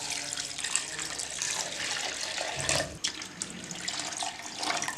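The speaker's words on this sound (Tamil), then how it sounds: "நான் பெரிய டம்ளர்ல 2 டம்ளர் தண்ணி ஊத்த போறேன்" Water pours steadily into a blender jar over whole lemons and rock salt for juice, a loud continuous splashing gush close by with a brief dip near the middle.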